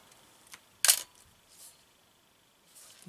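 A sharp mechanical click from an analog SLR film camera with exposure automation, its shutter released once near the start, followed by fainter small clicks and handling noises in a quiet room.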